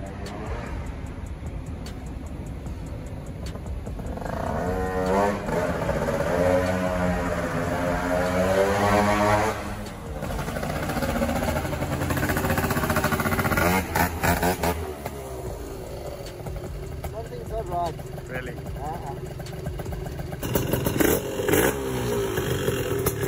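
Gilera Runner 180 two-stroke scooter on a test ride with mixed 9 g and 10.5 g variator rollers, its engine rising and falling in pitch through several revving pulls, moderately loud and continuous with wind noise over it.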